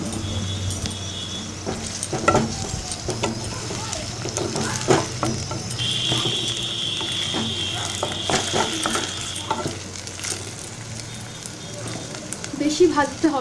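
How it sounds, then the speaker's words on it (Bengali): Gobindobhog rice fries and is stirred in a pan, giving a soft sizzle with scraping and clinking of the utensil, while a person talks over it. "গোবিন্দভোগ চালটা একটু ভেজে নেব"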